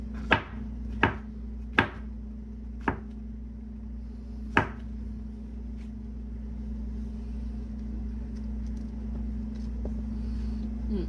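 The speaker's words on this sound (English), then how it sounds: "I'm going to chop a few more of the mushrooms" Mushrooms chopped with a knife on a board, five sharp separate thwacks over the first few seconds, then only a low steady hum of background appliance noise.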